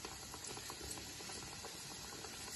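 Breaded prawns fry in hot oil, a steady, dense bubbling and sizzling that holds evenly throughout at a fairly quiet level, with no talking.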